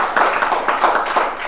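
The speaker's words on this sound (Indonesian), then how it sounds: "Tepuk tangan buat beliau rekan-rekan sekalian." An audience claps together at a gathering, a dense, steady patter of applause that holds at even loudness through its short span.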